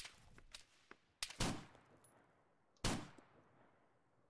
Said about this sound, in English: Taking shots at me.